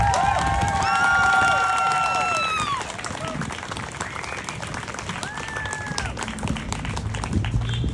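A rally crowd applauds and cheers for its speakers, a dense, steady wash of clapping with whoops and shouts rising over it, loud at first and then easing slightly but continuing throughout.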